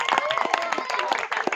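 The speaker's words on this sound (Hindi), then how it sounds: "जोरदार तालियां बजाइए इनके लिए।" Audience clapping at a live stage show, a dense burst of hand claps throughout, fairly close and steady, with voices mixed in underneath.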